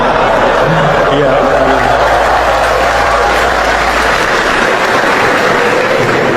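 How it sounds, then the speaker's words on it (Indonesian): Loud, continuous audience applause rises from a crowd at a public event, a dense wash of clapping mixed with voices and chatter that persists throughout. "Kenapa tepuk tangan ini?"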